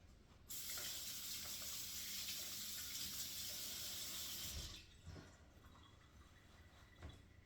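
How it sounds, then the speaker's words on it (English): Hands are washed under a running kitchen tap while baking brownies, a bright steady gush of water that starts abruptly, runs for about four seconds, then cuts off, leaving faint drips and small handling sounds nearby. "I'm gonna wash my hands."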